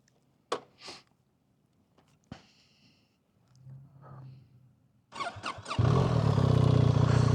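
A BMW R1300GS motorcycle sits quiet behind a few scattered clicks and rustles, then its engine fires up partway through and settles into a loud, continuous, close rumble.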